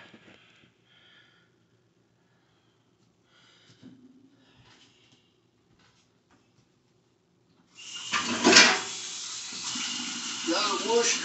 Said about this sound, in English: I gotta wash my hand.